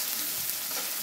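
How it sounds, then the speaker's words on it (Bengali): Chopped onions fry in a pan, giving a short, steady, close sizzle alone with no voices. "এবার নেড়েচে পেঁয়াজ কুচিগুলো ভালোভাবে হালকা বাদামি করে ভেজে নিতে হবে।"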